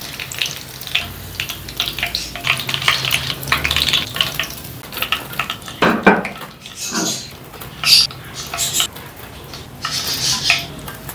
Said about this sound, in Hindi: स्लो फ्लेम पर मैंने फ्राई किया है, इनको निकाल लेते हैं।